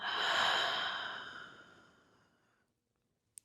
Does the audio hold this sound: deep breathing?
yes